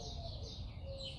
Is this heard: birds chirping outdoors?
yes